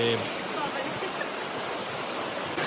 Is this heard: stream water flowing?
yes